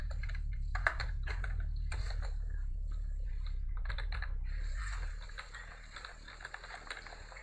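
C# code is typed on a computer keyboard in quick, irregular bursts of close key clicks over a low steady hum, softening near the end.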